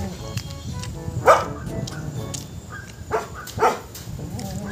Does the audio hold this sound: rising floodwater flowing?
no